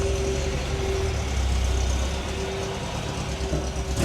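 A steady, rough engine drone from an old vehicle runs continuously up close, a low rumbling idle with a faint tonal whine and no talk over it.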